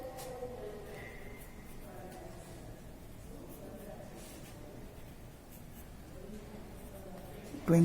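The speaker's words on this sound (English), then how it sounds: "Draw the locus lines." Pencil on paper draws locus lines for a technical drawing, soft faint scratchy strokes in short repeated runs, close and quiet, with a thump at the very end.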